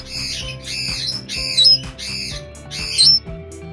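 An old Meyer's parrot gives a run of about five harsh, close squawks in quick succession, two of them noticeably louder.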